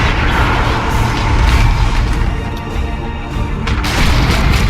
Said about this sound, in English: I used an assault cannon barrage